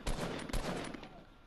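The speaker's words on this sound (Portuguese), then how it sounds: "Tiro, tá vendo?" Rapid gunfire bursts from the Fortnite video game, two loud sharp volleys close together followed by a sustained rattling tail of shots, with faint speech underneath.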